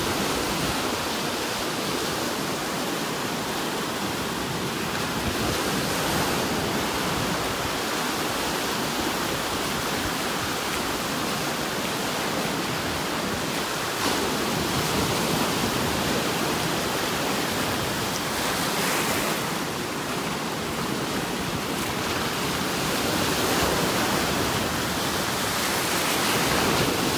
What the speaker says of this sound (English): This is where the waves are really bad, right in this area.